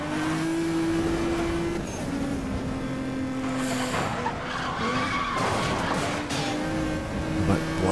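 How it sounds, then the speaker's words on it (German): A Nissan GT-R races in the video game Need for Speed Most Wanted, with a loud, sustained, shifting engine note mixed with tire skids and squeals and other cars passing by, and no talk. "Warum kommt denn da jetzt ein Auto?"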